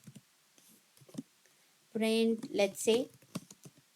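Faint clicks of typing on a computer keyboard in a coding notebook editor, scattered light keystrokes before and after a short stretch of someone speaking.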